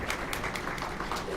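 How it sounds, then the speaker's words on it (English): A brunch audience applauds new corporate partners, giving a faint, steady patter of scattered claps heard from a distance. "let's applaud them."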